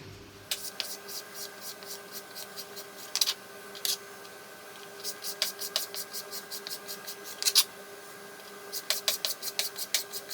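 Bacon rashers being cut up for crispy garlic bacon tomato pasta, giving a series of quick, crisp knife strokes that scrape against a board in short irregular bursts. The strokes sound close by, with no talking.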